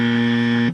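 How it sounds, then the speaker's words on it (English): A harsh wrong-answer buzzer sound effect blares loud and steady for under a second, then cuts off abruptly. "I'm just going to prepare my wrong buzzer"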